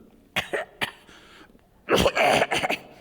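Several dry coughs, a few spaced single coughs followed by a louder burst of rapid coughing, close and clear with no talking.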